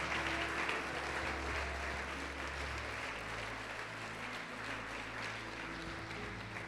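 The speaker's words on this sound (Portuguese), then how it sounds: "vamos aplaudir o Senhor Jesus e glorificá-lo" A church congregation applauds in praise of Jesus during a sermon, a faint, steady wash of clapping from a distance with no voices over it.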